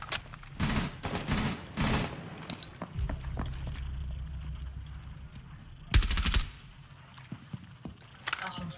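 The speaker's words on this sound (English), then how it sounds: "How did he not notice you were shooting him?" Gunfire in the Rainbow Six video game, with several sharp bursts of rapid shots near the start and another loud burst around the middle, mixed with clattering effects and occasional talk.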